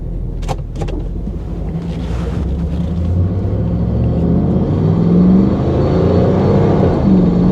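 A 1994 Pontiac Trans Am on a test drive gives a loud, close engine rumble that builds steadily as the car gets under way, after a few sharp clicks at the start.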